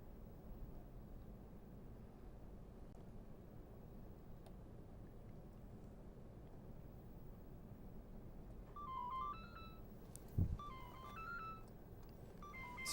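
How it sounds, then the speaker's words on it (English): A mobile phone ringtone plays a short electronic melody of rising and falling tones, faint against low background hiss and arriving near the end of an otherwise quiet stretch. "my phone is ringing."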